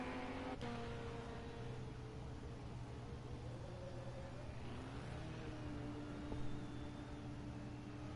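A GT race car pulls away from its pit stop after refuelling during a European Endurance Championship round at Hockenheim, its engine droning steadily against a continuous roar of circuit noise, with no voices.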